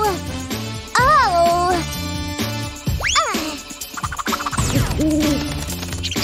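A cartoon owl hoots in a children's cartoon, with rising sweeping calls mixed with a springy boing and bright music, loud and close, while a voice speaks briefly.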